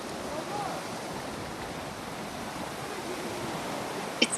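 Ocean waves break on the beach at Enoshima as a steady, broad surf wash, moderately loud and continuous. A faint brief click or bump comes near the end.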